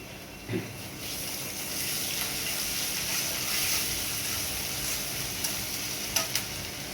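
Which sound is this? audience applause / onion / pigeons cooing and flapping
onion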